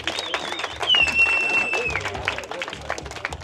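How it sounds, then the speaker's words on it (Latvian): An audience applauds at a car burnout challenge event, a steady wash of clapping from a crowd with a whistle rising over it, while a voice speaks over an amplified sound system in the background. "Aplaus vēlreiz!"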